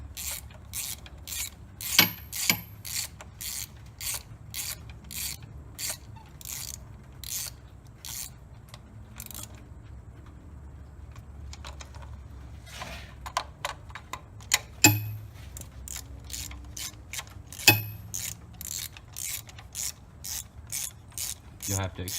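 A ratchet wrench clicks in quick rapid bursts while tightening spark plugs during a basic engine tune-up, close and crisp, with pauses and a few heavier clunks between runs of ticking.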